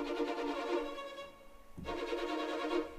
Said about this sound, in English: And then they've got Sordino measured tremolos,